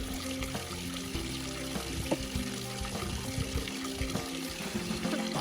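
A small mountain water fountain at the huts along the Grand Balcon Nord trail runs continuously, a steady close pouring and splashing stream with no voices.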